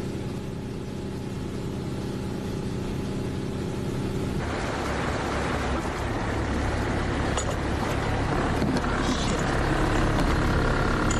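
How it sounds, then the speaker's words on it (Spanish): Motorboat engine droning steadily as it carries a film crew across Arctic waters toward an orca hunting area, the hum growing louder and rougher partway through, with no talking. "La lancha nos lleva hasta la zona de caza de las orcas"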